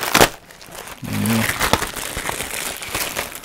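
Plastic packaging around the manual for a VFC VR16 airsoft rifle is torn open indoors, giving close, continuous crinkling and rustling with a few sharper crackles.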